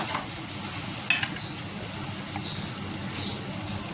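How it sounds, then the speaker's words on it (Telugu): Continuous close sizzling of spices frying in hot oil, with a few soft clinks of a spoon stirring. "ఇందాక తాలింపు వేయడం మర్చిపోయినా ఫ్రెండ్స్, మళ్ళీ ఇప్పుడు కొంచెం వేస్తున్నా"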